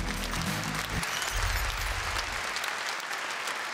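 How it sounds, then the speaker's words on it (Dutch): An audience at a Limburg sports gala gives a burst of applause for the nominees, dense clapping that starts loud and then thins out. "Een applaus voor de genomineerden."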